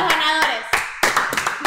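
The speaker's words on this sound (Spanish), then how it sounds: "Un aplauso para los ganadores." Applause from a group for the winners of a game, with dense clapping that swells in bursts over a brief stretch and a voice calling out amid it.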